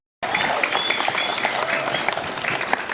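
High school students clapping together on command in a school hall, a loud, dense burst of crowd applause that continues steadily throughout.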